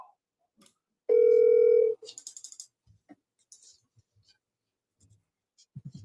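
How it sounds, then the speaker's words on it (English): Outgoing telephone call ringing back, a single steady electronic ring tone lasting under a second, followed by quiet scattered clicks and faint handling noises. "You can hear the phone ring?"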